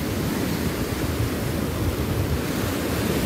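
Ocean surf washes steadily onto a beach at Fort Bragg, a continuous loud roar of breaking waves with no speech.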